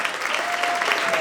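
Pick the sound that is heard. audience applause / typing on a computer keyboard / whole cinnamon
audience applause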